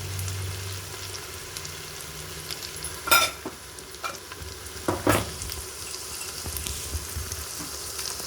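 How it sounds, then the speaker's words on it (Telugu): Ginger-garlic paste fries with turmeric in a pan for mutton paya curry, a steady soft sizzle broken by a few sharp scraping stirs, close and alone. "మనం పచ్చివాసన పోయే వరకు అల్లం వెల్లిగడ్డ వేయించుకోవాలి"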